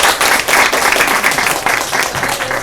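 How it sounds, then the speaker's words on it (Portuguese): Audience applause after a talk at a religious gathering, steady dense clapping from a room of people throughout, loud and continuous. "Foi aplaudido."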